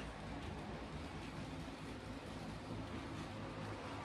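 A quiet, steady whirring rumble of a model train running continuously along its track with its sound turned off, with no voices.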